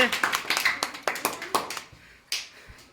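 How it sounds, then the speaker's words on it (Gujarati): A few people clap in a quick, uneven burst of sharp hand claps during a balloon-and-cup party game, the claps fading toward the end, with a voice speaking over them. "જોરદાર તાળીઓના ગડગડાટથી વધાવી લઈએ."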